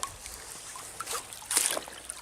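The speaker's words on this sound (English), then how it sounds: "These shoes are made for walking in the water." Feet wade through cold stream water in water shoes, with soft trickling and a few distinct splashes and sloshes close by, fairly quiet overall and with no talking.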